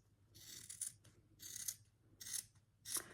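Scissors snip through quilt fabric in four distinct cutting strokes, each a crisp rustling slice about half a second long, spaced evenly and heard close up with no talking.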